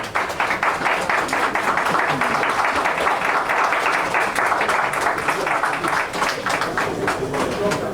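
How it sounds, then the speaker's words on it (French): Applause from a ceremony audience at a signing of a decree on medication coverage rates, dense steady clapping that fills the room throughout, loud and close. "Est-ce qu'on peut donner quelques applaudissements"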